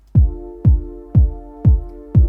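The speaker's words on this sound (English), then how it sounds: "if I'm just listening to my kick and the pad without sidechain, this is what it sounds like" Kick drum over a sustained synth pad in Logic Pro X without sidechain compression, five evenly spaced punchy kicks while the pad holds steady underneath, loud and alone.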